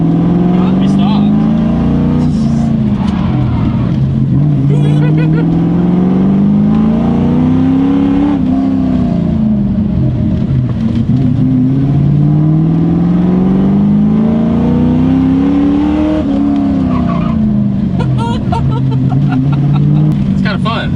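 A Ford Mustang on a test drive accelerates hard in repeated surges, its engine note rising and falling in pitch several times, loud and close throughout with some people talking over it.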